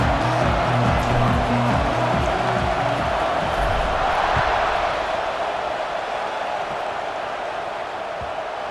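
A steady, broad roar of a stadium crowd cheering at kickoff in the video game EA Sports College Football 26, with a brief musical tone at the start, easing off slightly toward the end.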